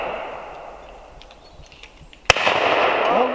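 A single sharp shotgun blast at a clay pigeon shooting weekend cracks out loud and close, following a quieter stretch of outdoor ambience and leaving a noisy wash behind it.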